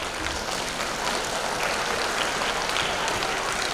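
Audience applause at a school show, steady dense clapping from a large crowd with no break, continuous throughout.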